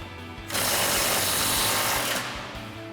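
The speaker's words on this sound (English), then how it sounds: "grab our 19 mil socket on our impact, our 19 mil wrench, and loosen these up" An impact wrench with a 19 mm socket hammers loose a lower control arm bolt during a suspension lift install, one loud, close, rapid rattling burst of about two seconds between quieter moments.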